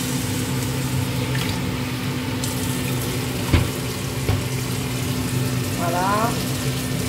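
Running water from a tap rinsing a food grinder in a kitchen, a continuous splashing rush close by with a steady hum underneath and a couple of sharp knocks of the grinder against the sink.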